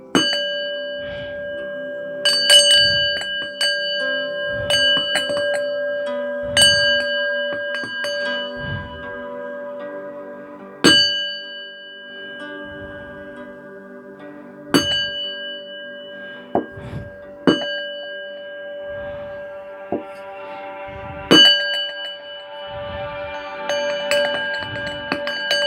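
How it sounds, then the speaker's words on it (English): Bells struck one after another, each ringing tone decaying slowly into a sustained shimmering hum, the strikes falling at irregular intervals and sounding close and clear with no talking. "sometimes one bell resonates with somebody and one bell resonates with another"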